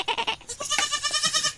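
A newborn kid goat bleats repeatedly at close range: a few quick, choppy cries, then one longer wavering bleat.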